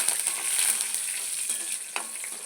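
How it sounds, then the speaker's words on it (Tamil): Green chillies and curry leaves fry in hot oil, giving a bright, steady sizzle with light crackles and a single sharper pop, close up and without talk. "3 பச்சை மிளகாய், கருவேப்பிலை, அதையும் இந்த எண்ணெயிலே போட்டுடலாம்"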